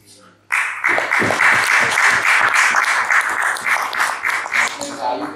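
Audience applause at a talk bursts in after a quiet moment and keeps going as a loud, dense clatter of many hands, with voices mixed in.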